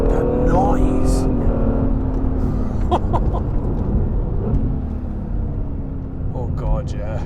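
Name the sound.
Honda NSX engine noise while driving fast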